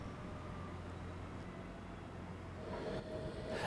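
A train runs along the Midland Main Line in a cutting near Heeley, Sheffield, a steady rumbling roar of passing rail cars that swells slightly toward the end, with no voices.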